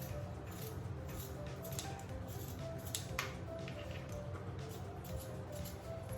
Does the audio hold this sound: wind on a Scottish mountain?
no